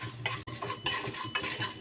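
Urad dal roasting dry in a pan, stirred with a metal spoon: quick scraping strokes and light clinks against the pan with a faint sizzle beneath, close and fairly quiet, over about two seconds.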